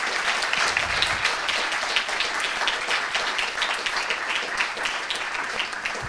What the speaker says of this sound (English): Ladies and gentlemen, just a round of applause for our speakers